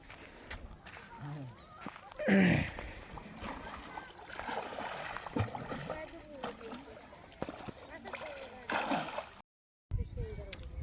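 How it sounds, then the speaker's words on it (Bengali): People dive underwater to catch fish. Water sloshes and gurgles continuously, with one louder splash early on. Voices are heard outdoors throughout, and there is a brief dropout near the end. "দেখেন কিভাবে ডুব দিয়ে মাছ ধরে"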